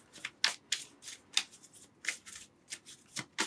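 Hedgewitch Botanical Oracle Deck cards are shuffled by hand in a string of quick, crisp riffling bursts, close and fairly quiet, with no talk.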